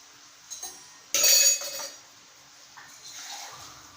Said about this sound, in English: put little bit of water so that this masala should not go to the bottom and stuck there.